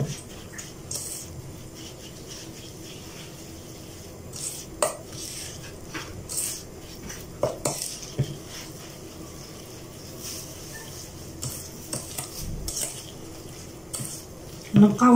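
Kunafa toasted with butter is stirred in a frying pan, with steady scraping and clinking of a utensil against the pan over a soft sizzle, close and continuous with occasional louder knocks.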